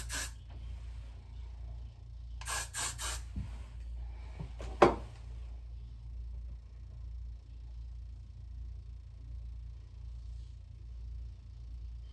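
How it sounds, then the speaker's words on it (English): Short bursts of hairspray from an aerosol can, with a couple of quick hissing sprays early on and a brief spritz later, over a steady low background hum. "Favorite hairspray ever."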